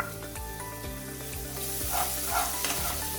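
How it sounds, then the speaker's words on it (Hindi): Ginger garlic paste frying with onions over a low flame for an egg masala curry, a constant close sizzle with repeated scraping strokes of stirring, no voices. "इसको 5 से 6 मिनट के लिए लो फ्लेम में फ्राई करेंगे"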